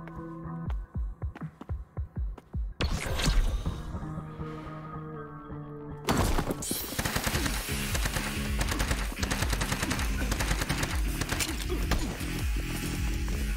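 Rapid automatic gunfire from an arena first-person shooter game, Bullet Runner, with sparse single shots at first, then a dense sustained burst of rattling fire continuing to the end, loud and close.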